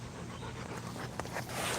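A dog pants steadily nearby, quick rhythmic breaths over a constant background hiss, with no talking.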